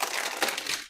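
Large resealable plastic bag from a model kit box crinkling in a brief burst of close, rustling crackles.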